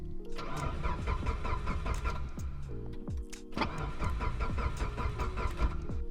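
A car engine cranks over and over without catching, a steady loud churning rhythm that pauses briefly near the middle and then resumes, with no voices over it.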